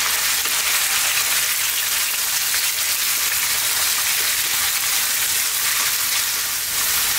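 Lamb chunks fry over medium heat in a pan while being stirred, a loud, close, continuous hissing sizzle with occasional scraping shifts, steady throughout and with no voices.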